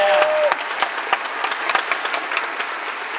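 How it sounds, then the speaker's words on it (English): A graduation audience for a prep academy class claps steadily, a dense patter of many hands close by with scattered louder claps, following a brief tone at the start. "we have to clap a lot today"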